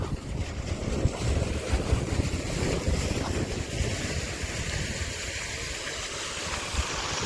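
A water pump motor runs while water gushes out in a loud, steady, broadband rush that holds for several seconds with no talking.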